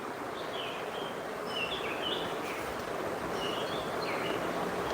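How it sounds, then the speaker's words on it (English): Birds chirp in short, scattered calls outdoors, moderately distant, over a steady bed of rustling ambient noise; no one speaks. "birds are singing and the bird sounds nice here"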